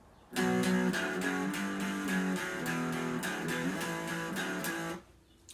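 Electric guitar plays the second phrase of the intro, a steady run of bright picked chords with a rhythmic, repeating pulse, loud and close, played alone for about five seconds before stopping.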